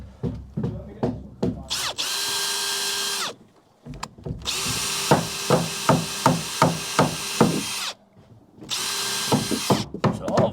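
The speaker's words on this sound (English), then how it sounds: "I'm now going to use that as a drill bit to create that hole" A power drill bores a hole in timber fascia on a garden room roof, whining in long bursts broken by short pauses and punctuated by repeated hammer-like knocks, loud and close.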